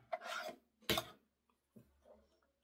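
A blade scoring through a stack of paper for a paper-craft project gives a few short, near scraping rasps, with quieter strokes trailing off after them.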